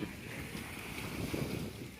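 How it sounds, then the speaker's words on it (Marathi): Steady wind gusts buffet the microphone at a rocky seashore on Capri, a continuous broad rushing noise with surf-like washes beneath, no voices. "आता कबरीच्या समुद्र किनाऱ्यावर आहोत खडक आहेत खाली वारा वाहतोय"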